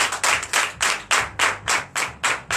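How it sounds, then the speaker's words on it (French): A worshipping congregation at a Sunday service in Comè, Benin, claps together in a steady rhythmic pulse of strong unison claps, with a faint low hum beneath and no voices. "Donnez de vive acclamation au Seigneur Jésus."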